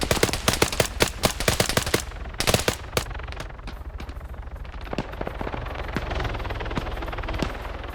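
Rapid machine-gun bursts rattle loudly in a video game battle, then fade into scattered shots over the steady rotor drone of an Mi-8 heavy helicopter, with no talk.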